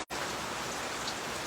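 Heavy rain pours steadily outdoors around a garden of potted plants, a dense constant patter and hiss on surfaces, loud and unbroken after a brief silent instant at the very start.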